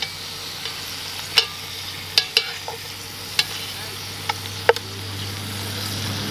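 Venison backstrap browning in a cast iron Dutch oven at a campground, a soft steady sizzle with several sharp metallic ticks and clinks of a utensil against the pot, close up with no talk.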